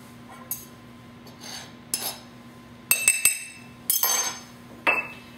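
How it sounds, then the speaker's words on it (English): A whisk knocks against a bowl while mixing self-rising flour for vanilla cupcakes, several sharp clinks and taps in irregular bursts, close and fairly loud with quiet gaps between. "we're going to mix it together with a whisk"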